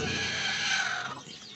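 A hen squawks loudly and steadily, then the call tapers off into softer clucking near the end.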